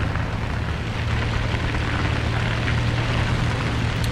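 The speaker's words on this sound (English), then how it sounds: "I want to shoot at the plane, but it's a bad idea." In a War Thunder ground battle, an aircraft drones overhead as a loud, continuous roar that stays even throughout.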